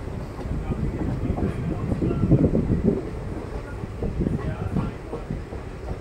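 The Sutlej Express Special arrives at platform 1 of Moga railway station, a low, rumbling roll with soft wheel clatter that swells midway and then eases, close by.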